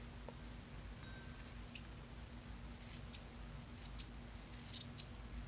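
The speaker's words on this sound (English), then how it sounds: "give it a little bit of a haircut" Scissors trimming the ends of a yarn tassel, a series of soft quick snips close by in a quiet room, no talking.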